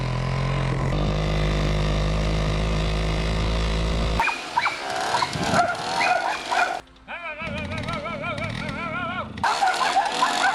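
Aggressive dogs bark and whine in an old, rough recording. A steady motor hum fills the first few seconds before the barking takes over, loud and close with uneven bursts.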